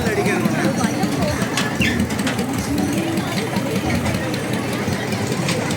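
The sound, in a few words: generator engine running giant wheel ride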